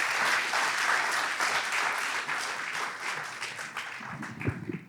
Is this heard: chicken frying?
no